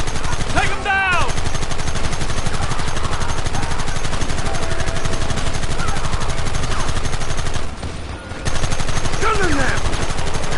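Dense, continuous gunfire in the Red Dead Redemption remaster, with rapid rifle and revolver shots in a loud, sustained fusillade; game voices shout over it.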